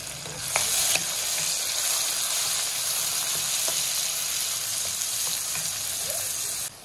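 Tomatoes sizzle as they fry in a pan with lightly browned onions for aloo bhujia, a steady loud hiss with scattered stirring scrapes and spatula taps throughout.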